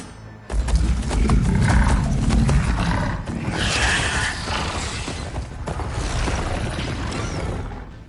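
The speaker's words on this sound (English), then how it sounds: "They're riding machines!" Robotic machine mounts ridden by enemy lancers in the video game Horizon Forbidden West, a loud mechanical roar with creaking, grinding metal and heavy movement starting abruptly and churning continuously under game effects.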